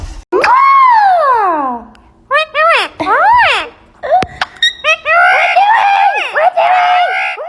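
A pet bird screams loudly and close by in a series of piercing, sweeping screeches, some long and some short bursts, separated by brief pauses.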